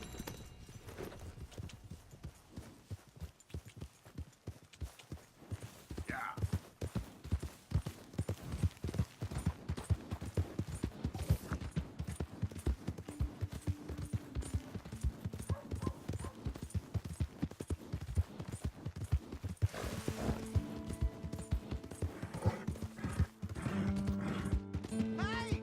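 A horse's hooves clip-clop steadily in Red Dead Redemption 2, a continuous rhythmic beat of footfalls with light mechanical rattles, joined near the end by brief tonal game sounds.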